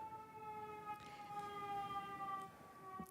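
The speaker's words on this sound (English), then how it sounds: "if you can hear me over the siren" An emergency siren wails steadily outside a city historic preservation commission meeting room, its sustained tones somewhat distant and moderately loud over a faint background.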